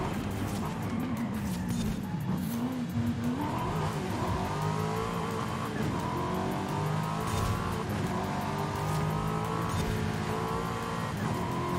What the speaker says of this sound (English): Must get around the muscle car.